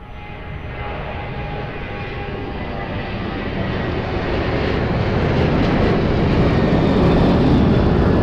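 A Boeing airliner on approach to land at Lisbon Airport passes with a loud, steadily building jet engine roar that swells and grows nearer over about eight seconds.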